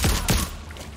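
Two quick sniper rifle shots in Sniper Ghost Warrior Contracts 2, close and punchy, a fraction of a second apart, each with a deep low thump, followed by a short fading tail.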